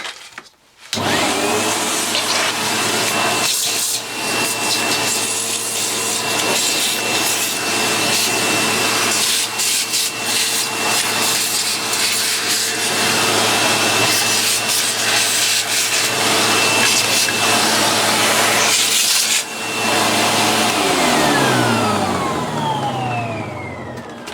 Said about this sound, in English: Let's just run the vacuum cleaner over.